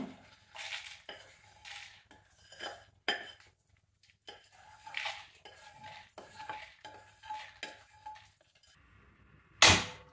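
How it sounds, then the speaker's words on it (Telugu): Roasted carrot peels get scraped and dropped into a stone mortar, making a series of close clinks, scrapes and knocks of metal against stone, ending with one louder clatter. "ఇవన్నీ రోట్లో వేస్తున్నాను."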